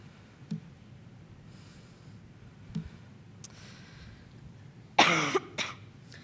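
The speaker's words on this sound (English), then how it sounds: "so I will be coughing every once in a while." A few scattered short coughs or throat clearings from a speaker getting over a cold, then a loud harsh coughing burst near the end, close and otherwise quiet.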